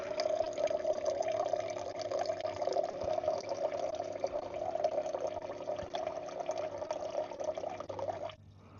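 Water runs steadily from the spout of an outdoor off-grid water station used for filling cups, washing hands and doing dishes. It makes a continuous, moderately close trickling and splashing stream that stops abruptly near the end, with no voices.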